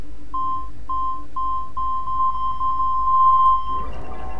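Puzzle beeps in the video game Assassin's Creed 2: a series of short electronic tones that quicken into a rapid run and merge into one longer beep before stopping, clear and alone.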